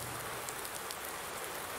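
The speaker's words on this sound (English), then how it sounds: "it started raining, come on man." Steady rain falls in Farming Simulator 19, a dense even hiss of drops with faint patters, continuous throughout and without voices.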